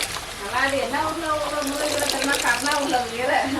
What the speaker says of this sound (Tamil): கொஞ்சம் நல்லா அலசி எடுத்துக்கலாம்